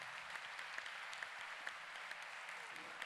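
Audience applause after a personal testimony at a health conference, a steady wash of many hands clapping at moderate distance, fairly faint, with a few sharper individual claps standing out.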